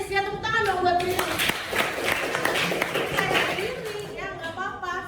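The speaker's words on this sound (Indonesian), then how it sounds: "Ya tepuk tangan dong buat Riris" A classroom of students applauds a classmate named Riris in a short burst of clapping, framed by a teacher's talking before and after.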